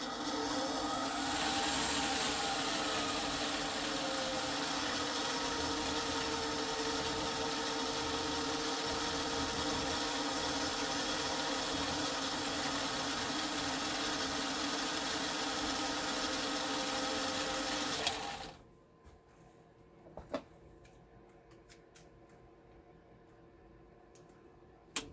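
A Kenmore Stylist 86 sewing machine winds a bobbin with a steady, loud mechanical whir and hum, then cuts off abruptly and leaves faint clicks and handling noises in near quiet.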